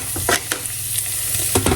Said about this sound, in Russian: Добавляем, обжариваем лук-порей порезанными кольцами.